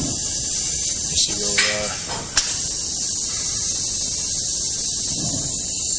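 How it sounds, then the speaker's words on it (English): An air cylinder on a reel grinder vents with a loud steady hiss of pushed air, a continuous high rush throughout, with someone talking over it. "right now we're pushing air on this side, and we can regulate the speed by regulating the discharge air out of that piston."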